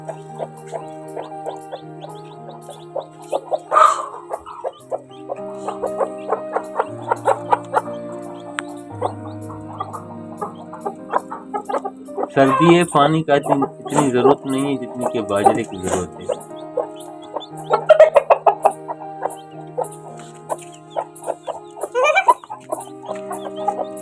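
Young poultry chicks cheep and cluck continuously, close by and fairly loud, with someone talking over them at times.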